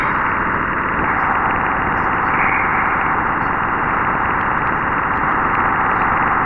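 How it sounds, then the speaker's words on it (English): A NASA space recording of a spacecraft crossing the magnetopause between the sun's magnetic field and Jupiter's, a steady loud hiss and low rumbling static band that stays constant throughout. "That is the sound of the crossing of the magnetopause"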